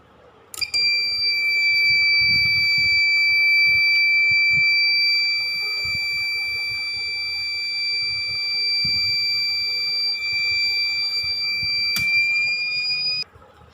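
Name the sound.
Microtek SMD V4 inverter beeping when switched on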